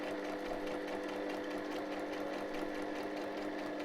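A home sewing machine stitches through cardstock and paper for a handmade mini journal, giving a steady, continuous mechanical whir with a fast rhythmic needle chatter, close and even throughout with no talking.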